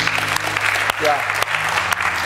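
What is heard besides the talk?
congregation hand clapping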